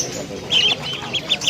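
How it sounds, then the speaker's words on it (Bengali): Ducklings at a bird market give short, bright quacking calls in several bursts, close and fairly loud against a low murmur of market noise. "হাঁসের বাচ্চা"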